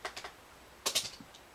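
Short burst of typing on a computer keyboard, a few quick, crisp keystrokes at the start and a louder cluster of clacks close by, with no voices.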